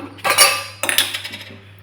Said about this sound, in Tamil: இப்போ அடுப்பு பற்ற வச்சு வானல் போட்டுக்கலாம்.